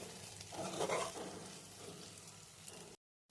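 Prawns frying in a masala for an egg and prawn gravy curry, a soft, faint sizzle with light stirring that swells briefly, then cuts to silence.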